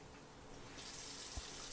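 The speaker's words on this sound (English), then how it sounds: "Turn on the faucet again." Water runs steadily from a faucet during a plumbing repair, a broadband hiss that strengthens partway through and continues nearby, with a faint low thump near the end.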